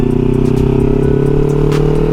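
Kawasaki Versys 300X motorcycle engine held at a steady, loud drone on an off-road ride, a continuous near hum with slight rising pitch as it is rev-matched, no voices.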